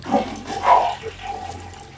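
Water running in a Sims 3 household, a soft, steady hiss of shower spray close by with faint rustling bumps. No talking.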